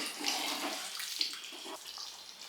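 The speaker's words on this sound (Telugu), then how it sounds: "ఇప్పుడు మనం ఇందులో ఎసరు యాడ్ చేసుకుందాం." Water pours steadily into a 2 kg chicken biryani pot with a continuous rushing splash, fairly close and without talk.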